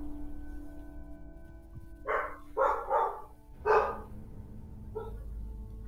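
Pet dogs indoors let out a few sharp barks in quick bunches, then one more bark after a pause, loud and close over a low steady hum.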